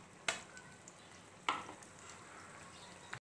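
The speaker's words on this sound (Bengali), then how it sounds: "লো টু মিডিয়াম ফ্লেমে আস্তে আস্তে করে আমি ভেজে নেব।" Khaja pastries fry gently in oil over a low-medium flame, a soft, steady sizzle with a couple of sharper spattering bursts, faint and close, with no voices.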